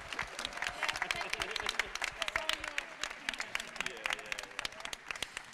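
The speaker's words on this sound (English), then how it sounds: "an applause for our wonderful roundtable" An audience applauds the panel after a roundtable discussion, crisp, fairly quiet clapping with distinct individual claps throughout, with some voices murmuring underneath.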